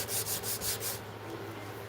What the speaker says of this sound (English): I want to sand a little more off of